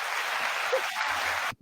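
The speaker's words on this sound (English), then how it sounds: "I was just doing some applause." Steady applause during a podcast launch party, holding at an even level for about a second and a half before cutting off abruptly.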